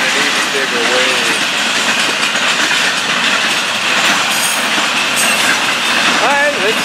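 A Florida East Coast Railway train rolls past on an evening, its steady broadband rumble and wheel noise filling the whole stretch, with a brief squeal near the end and no talk over it.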